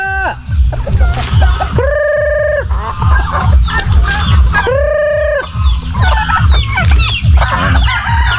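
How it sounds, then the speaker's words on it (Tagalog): Chickens cluck loudly and close in a farm pen, with a rooster crowing twice in drawn-out calls amid busy, overlapping clucks and a person talking. "Para palabasin ko rin itong manok na nandiyan"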